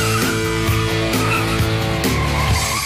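A 2006 Mazda5 GT brakes hard and its tires squeal and skid in one sustained, loud howl that holds for about three seconds.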